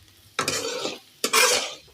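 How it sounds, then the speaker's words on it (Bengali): Potatoes frying in a pan give off two bursts of loud, close sizzling and scraping as they are stirred, separated by a short quieter gap. "কলি আলু ভাজা করছি"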